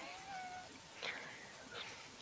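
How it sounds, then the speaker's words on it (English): A house cat meows, two short cries close by over a steady background hiss, with no talk. "Damn cat."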